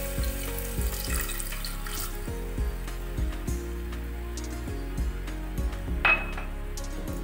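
Warm water is poured into a cooking pot while soya chunks curry is prepared, a short splashing pour set among clinks and knocks of a utensil against the metal pot, close up with no talking.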